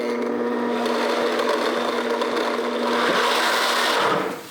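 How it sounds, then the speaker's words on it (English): A kitchen blender whirs steadily for a few seconds with a humming motor tone, then spins down and stops, no talking over it. "so we're going to put these in the blender"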